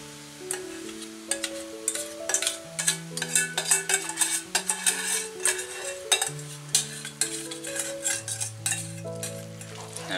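Pasta is stirred into sauce in a pan for vegetarian carbonara: a close, uneven series of scraping clinks and wet sloshes over ten seconds, set against soft background music.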